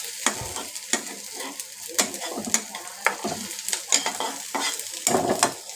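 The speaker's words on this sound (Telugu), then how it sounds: "కానీ నాకు ఎగ్ కాబట్టి మనం ఇలా ఫ్రై చేసుకున్నాం కదా" Egg frying for egg fried rice, stirred in a pan over low heat: steady close sizzle with repeated sharp scraping strokes of a utensil against the pan, roughly one or two per second.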